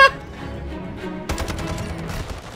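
Gunfire in Call of Duty: Modern Warfare (2019) gameplay: a quieter stretch of game sound, then from about halfway a dense burst of rapid, sharp shots with crackling impacts close up.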